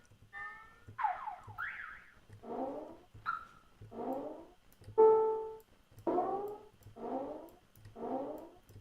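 Car alarm tones played on a synthesizer: a sequence of separate electronic chirps and swooping whoops, one roughly every second, each a short rising or falling burst with quiet gaps between, moderately loud and alone.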